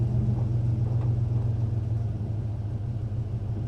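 A 1988 Ford F-150 4X4 short-bed pickup idles once warmed up, a steady low engine rumble with an even pulse, close and continuous, without anyone talking.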